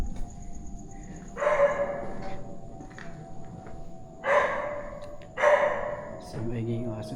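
A dog in an abandoned school in Cavite barks in three or four short bursts at moderate distance, set against a faint steady hum and low background noise.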